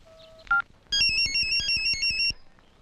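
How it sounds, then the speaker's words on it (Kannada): An electronic telephone ringtone plays loud and close as a rapid run of bright pulsing tones, preceded by a few short dialing beeps. "ರಿಂಗ್ ಆಗ್ತಾ ಇದೆ."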